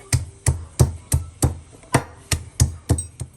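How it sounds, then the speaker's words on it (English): Garlic being smashed in a grinder, likely a mortar and pestle, for Guyanese fried spinach and shrimp: about ten sharp, evenly spaced pounding thuds, close and fairly loud, with no voices. "I'm gonna bring my grinder up front, and we're gonna smash our garlic"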